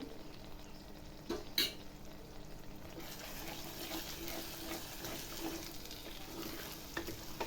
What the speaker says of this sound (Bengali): বেশ ভালোভাবে নাড়াচাড়া করলেই সবজি আমার তৈরি